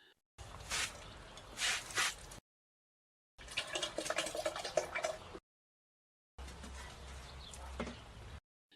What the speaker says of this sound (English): For 10 liters, I usually pour in approximately about half a liter of this thick slurry